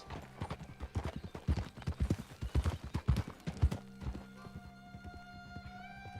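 A Morgan horse in the video game Red Dead Redemption 2 clip-clops at a brisk walk, close and crisp for about four seconds, then the hoofbeats stop and only a faint tonal hum remains.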